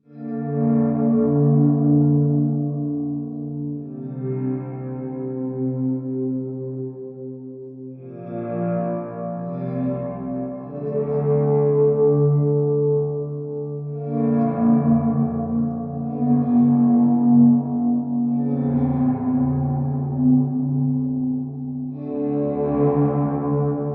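A guitar runs through reverb in slow, sustained chord changes, each bathed in a wide, blooming ambient wash that keeps ringing between notes, steady and moderately loud with no voices.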